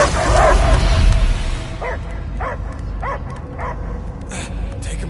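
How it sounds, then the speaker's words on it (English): A dog in the video game Guardians of the Galaxy gives a run of short, evenly spaced barks and yips after a louder burst of game noise, with a character speaking around the barking. "I hear only barking."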